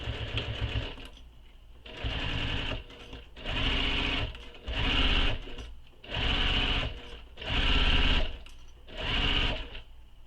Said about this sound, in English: So now I'm going to sew this in place using the seam allowance given in the pattern.